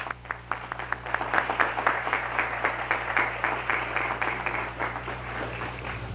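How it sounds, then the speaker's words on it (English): An audience at a Kenai area history conference gives a round of applause, a steady patter of many hands clapping at medium distance over a low recording hum, with no talking. "Let's give these people a nice round of applause"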